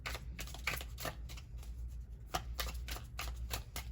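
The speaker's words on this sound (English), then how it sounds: "Let me just go ahead and shuffle the deck here really quick" A deck of cards is shuffled repeatedly up close, producing quick rippling bursts of riffling clicks with short pauses between them.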